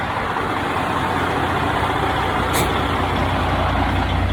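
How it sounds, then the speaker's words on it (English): A semi truck sits rumbling in a low, steady diesel idle during a tug test against the trailer brakes, with a brief short hiss of air partway through. "Now, I gotta do what I just said, don't I? I gotta do a brake,"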